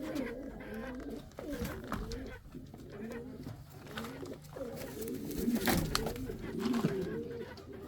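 Pigeon cooing close by in a quiet indoor loft, soft repeated throaty coos in short phrases, with faint rustling and low background noise.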